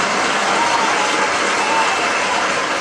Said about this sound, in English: The applause is getting louder.